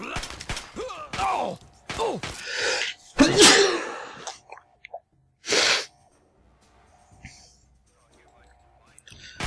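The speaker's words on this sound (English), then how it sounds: "Quick sneeze." A single loud sneeze bursts out among bits of talk and breathy vocal sounds, followed by a short pause of near quiet.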